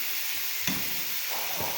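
Soy sauce goes into chicken manchurian frying in a pan, a steady close sizzle with a sharp brief flare as the liquid hits, then soft stirring, with no one talking.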